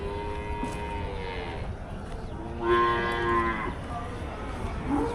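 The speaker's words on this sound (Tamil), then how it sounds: "மேலப்பாளையம் மாட்டுச்சந்தை." Cattle at Melapalayam cattle market low repeatedly in loud, drawn-out moos, several animals calling in overlapping bursts against a steady crowded market background.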